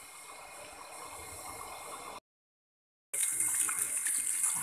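A repaired water pump runs with a steady whirring and gushing of water, cuts out briefly into silence, then resumes louder with bright rushing water hiss.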